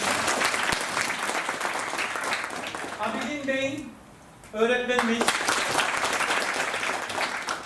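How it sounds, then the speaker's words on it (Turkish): Steady audience applause for retired teachers at a gathering, dense clapping that pauses briefly while a man announces a name over a microphone, then resumes just as strongly. "bir alkış istiyorum"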